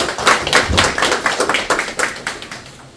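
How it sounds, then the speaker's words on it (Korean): Clapping from an audience at a National Assembly forum on garbage truck safety standards: a brisk, fairly sparse run of distinct claps, close and clear, fading slightly toward the end. "큰 박수 부탁드리겠습니다."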